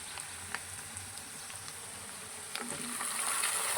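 Chopped onions fry to a brown colour in a pan for village-style tomato gojju, a steady close sizzle and crackle with soft pops, alone with no talking.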